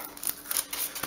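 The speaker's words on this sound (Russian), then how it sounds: "Давайте-ка тоже разрежем." Scissors snip open a package during the unboxing of a Sony Ericsson Elm J10i phone ordered from AliExpress, giving a few short, close cutting crunches against a faint hiss.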